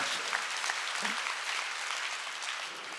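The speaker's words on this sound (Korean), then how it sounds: "박수 치라 이거." Church congregation claps hands during a Sunday worship service, a loud, dense burst of many hands applauding together, holding steady for a few seconds and tapering slightly at the end.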